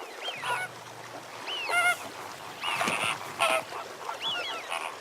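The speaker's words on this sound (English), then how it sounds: "greater flamingos are among the earliest visitors every winter" Greater flamingos call at Chilika Lake, a flock giving repeated nasal, goose-like honks in scattered bursts, some overlapping, at moderate distance over faint background noise.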